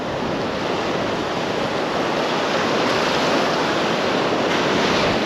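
Ocean surf washes steadily onto a beach where someone is fishing from shore, a continuous close roar of breaking waves with no talk.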